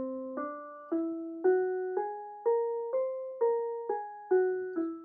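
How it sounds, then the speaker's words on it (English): A single pitched instrument plays an ascending whole tone scale, nine or so evenly spaced notes rising step by step, each with a clear attack and gentle decay, close and alone with no talk. "or a whole tone scale, which sounds like this"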